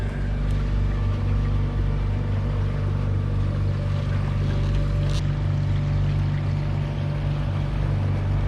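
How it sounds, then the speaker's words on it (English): Boat motor cruising at about 4 knots on a calm morning near Puerto Escondido, a steady low droning hum with no pauses, close and constant throughout. "Here's a 4-knot morning cruise."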